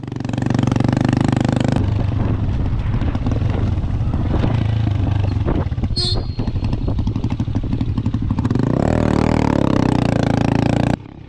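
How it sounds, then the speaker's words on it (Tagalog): A habal-habal motorcycle carrying three riders drones loudly and steadily over a rough, bumpy mountain road in Bukidnon. The close, constant engine rumble is mixed with rattling and clattering from the rough surface, and a brief higher whine rises near the end. "Tatlo kaming nakasakay sa isang motor"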